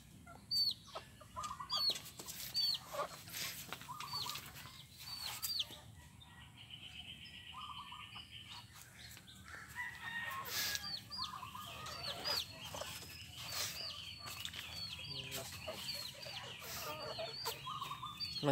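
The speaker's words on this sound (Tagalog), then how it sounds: "Mga sisiwo." Chicks and chickens clucking and peeping nearby, with short repeated calls scattered over a steady background murmur, some wing flapping in between, and no talking.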